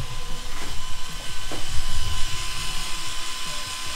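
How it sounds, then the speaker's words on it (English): A drill boring out a broken bolt in a Subaru Outback boxer diesel engine, a continuous grinding whir with uneven scraping bursts, close and fairly loud, with no talk. "We started to drill it and hopefully we can get it out."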